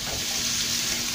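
Food frying in a pan for a Mexican breakfast with plenty of vegetables, a steady close sizzle running without a break and no voices.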